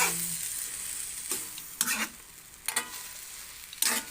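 Sautéed eggplant with sardines stirred in a frying pan, a steady sizzle under several brisk scraping strokes of a utensil, close up and with no talking.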